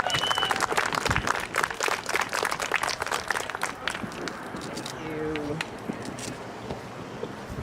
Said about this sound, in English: Give her a big hand, Monica.